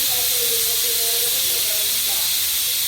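Steady loud hiss of steam escaping under pressure from a rice pressure cooker, continuous and close, with faint voices underneath.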